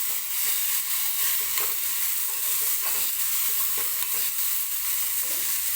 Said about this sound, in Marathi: तर हा टोमॅटो भाजतोय